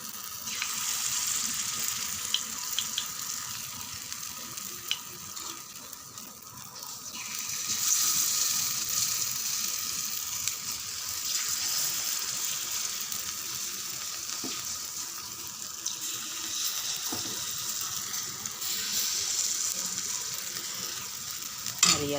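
Rava paniyaram batter poured into hot oil in a paniyaram pan, giving a continuous close sizzle and frying hiss that holds steady throughout, with faint stirring clicks and no talk.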